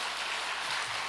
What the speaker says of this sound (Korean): 격려의 박수 한번 주세요.